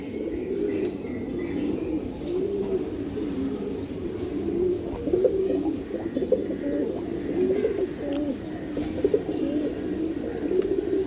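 Racing Giribaz pigeons kept for long-distance release tournaments coo in a continuous, close chorus of low rolling calls, with occasional chirps and a brief flutter of wings.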